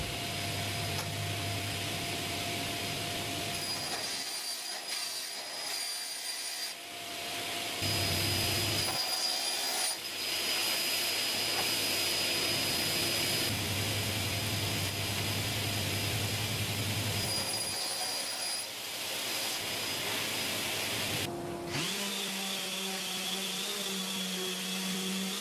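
A power saw cuts through full MDF sheets, its loud whining motor running in long stretches with brief pauses between cuts and a shift in tone near the end, no voices.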